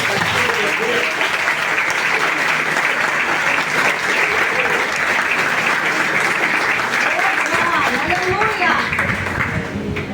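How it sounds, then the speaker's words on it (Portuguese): A church congregation applauds steadily and loudly for about ten seconds, dense continuous clapping with voices mixed in. "Você pode aplaudir a Deus pela vida dele."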